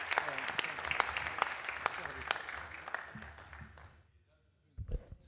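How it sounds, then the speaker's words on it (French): Audience at an inauguration session of a tech show claps in a steady rhythmic beat. The clapping fades away after about four seconds, and a voice then speaks briefly. "avec un tonnerre d'applaudissements"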